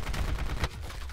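AN94 assault rifle fire in a video game, a loud, dense string of rapid shots that continues steadily through the moment, with a sharp burst standing out partway through.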